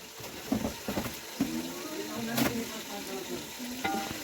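Brinjals fry in oil in a pan with a quiet, even sizzle and occasional stirring clatters, and faint voice-like tones in the background.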